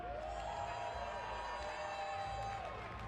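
Arena crowd at the HCS Salt Lake City Major esports championship cheering in a steady, dense roar that carries on without a break, with scattered voices and whoops over the top.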